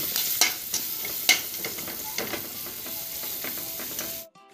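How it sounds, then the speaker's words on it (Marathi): Onion pieces fry in hot oil in a pan, a steady close sizzle with occasional stirring clinks and scrapes, no talking, ending abruptly. "कांदा आपल्याला थोडासा फ्राय करायचा आहे।"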